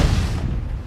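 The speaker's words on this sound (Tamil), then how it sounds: "கொடுத்தா திடீர்னு வெடிக்கிற சவுண்டு கேட்கும்." A bomb hidden in a donut explodes in the film Fast Charlie, giving a short, loud boom with a rumbling tail, heard alone.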